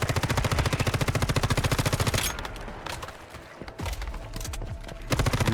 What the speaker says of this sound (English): this is why I am using a freaking SMG.